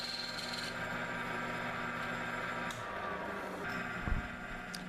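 A lathe hums steadily while a tool rasps and scrapes against a spinning ironwood handle, with a sharp knock near the end.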